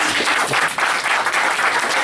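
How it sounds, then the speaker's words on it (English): Steady applause from an event audience clapping for a helper, a dense, loud wash of hand claps that continues evenly without a break. "Please clap for her."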